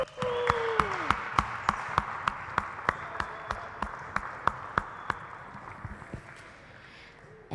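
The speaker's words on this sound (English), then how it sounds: "let's give them one more big round of applause." An audience in a glassblowing hot shop claps in a steady, evenly spaced rhythm, sharp distinct claps about three per second, fairly quiet over a background hum, then stopping near the end.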